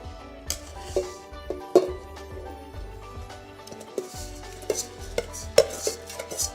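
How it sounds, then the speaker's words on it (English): Pork pieces dropped into hot oil in a Fissler Vitaquick stainless pressure cooker, with close metallic clanks and scrapes of meat and utensil against the pot over a low sizzle. "My oil is hot, so let's add the meat."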